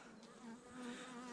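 A honeybee colony buzzes inside its hive during a winter inspection, a faint, steady, close drone with no voices.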